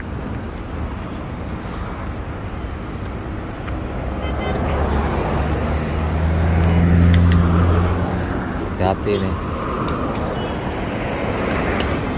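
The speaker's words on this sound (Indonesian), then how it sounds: "Jadi jalanan macet ini." Congested road traffic in Saudi Arabia at school letting-out time, a steady rumble of idling and creeping vehicles with a deeper engine swell in the middle, while a person speaks briefly nearby.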